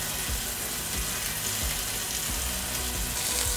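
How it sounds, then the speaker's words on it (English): Meat searing in a pot for a pot roast, a dense loud sizzle hissing continuously with a few low knocks, no voices. "And then let's sear our meat."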